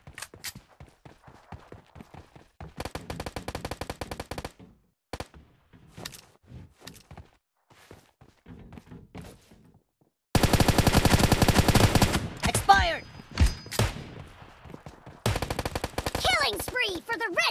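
Gunfire from a PUBG Mobile team deathmatch match: bursts of rapid automatic shots and single cracks come in loud clusters, with quieter stretches of footsteps and game effects between them.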